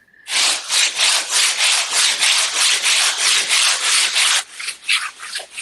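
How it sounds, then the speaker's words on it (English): Someone sands a ceiling by hand in steady, rhythmic back-and-forth strokes. The gritty scraping is loud and close, then turns uneven and choppier near the end, with no talking. "Sanding ceilings are fun."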